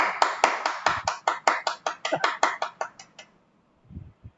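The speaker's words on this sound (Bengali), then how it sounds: "ওসমান ভাইয়ের জন্য একটা করতালি হয়ে যাক" Applause for Osman at a live online session: about fifteen crisp, evenly spaced claps ring out close by, then they stop into near silence broken by a faint low murmur.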